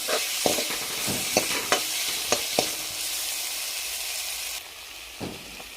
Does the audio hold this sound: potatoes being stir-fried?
yes